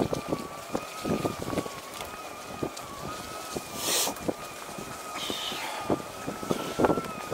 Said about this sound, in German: Heute frühlingshaftes Wetter, aber ziemlicher Wind.